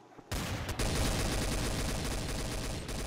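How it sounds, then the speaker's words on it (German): Rapid sustained gunfire in the video game Garry's Mod Trouble in Terrorist Town, a loud dense burst of automatic shots starting abruptly after a brief quiet moment and running continuously. "Da oben hinter dir schießen sie."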